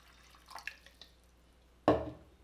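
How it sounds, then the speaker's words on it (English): Water dripping onto the diamond disc of a stone grinder used for repairing broken stone, a few faint, sparse drips followed by one louder splash-like impact. "turn on the water flow. Just a drip, drip, drip is all you need."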